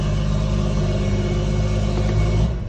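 A BMW M140i with a Stage 2 tune idles with a steady, loud, deep engine drone that drops off near the end.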